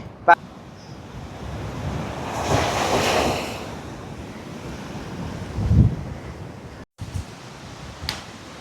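Strong gusting wind and crashing sea waves on the Jaffna coast in Sri Lanka, a broad continuous roar with a louder surge midway, a few sharp knocks and a brief dropout near the end.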